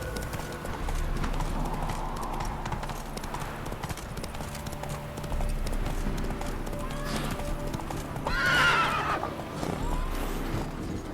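Horse Roach from The Witcher 3 clip-clops steadily at a brisk pace, then gives a loud neigh near the end, over a continuous game soundtrack.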